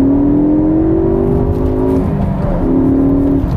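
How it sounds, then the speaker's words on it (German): A 2012 Ford Focus ST MK3 accelerating hard, its engine tone rising steadily, breaking briefly at a gear change, then climbing again, loud and close from inside the car. "Wir beschleunigen jetzt ein letztes Mal."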